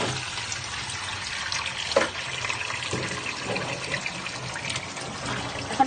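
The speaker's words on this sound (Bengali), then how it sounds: "এখন আমি এটা ধুয়ে দেখাচ্ছি কতটা পরিষ্কার হয়েছে।" An item scrubbed clean with citrus peel is rinsed under a running tap. Continuous close water splashing and trickling runs throughout, with a few louder splashes and no talk.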